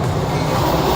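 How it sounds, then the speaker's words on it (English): A train arriving, a loud steady rumble and roar of rail cars passing close by that fills the whole moment without a break. "Sorry, the train's coming."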